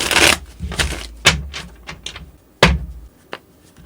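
Crisp riffling bursts of tarot cards being shuffled, several quick separate shuffles with short pauses between, close and fairly loud, no talking.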